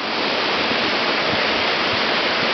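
A small river in Goleniów, Poland rushes steadily, a dense, continuous wash of flowing water heard close up with no voices.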